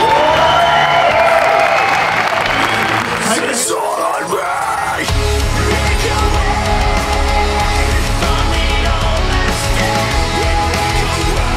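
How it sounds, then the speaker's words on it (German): A bodybuilding championship audience claps and cheers in a loud, continuous wave of applause, with shouts and whoops rising above the crowd noise throughout. "Wenn ihr mal richtig Applaus gebt jetzt"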